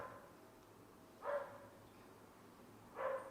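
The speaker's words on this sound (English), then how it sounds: "There's a dog barking." A dog gives two faint, distant barks spaced a couple of seconds apart over a quiet background.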